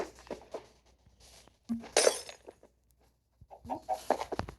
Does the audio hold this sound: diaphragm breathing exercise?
no